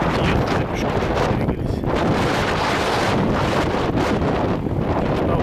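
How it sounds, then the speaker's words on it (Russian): Strong wind on Montaña Roja, Tenerife, buffets the microphone in a continuous roaring rush, loud and unbroken, with gusts swelling and easing throughout. "Там вот тоже такой сильный ветер, кажется, снесет."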